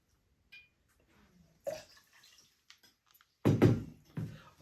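Nine-year Knob Creek bourbon poured into a cocktail glass: a few short, quiet liquid splashes and glugs separated by brief pauses, with a louder pour near the end.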